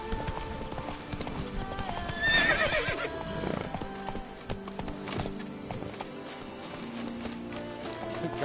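A horse in The Witcher 3 game clip-clops along at a steady gallop and lets out a high whinny early on, with the hoofbeats continuing in a steady rhythm under a voice.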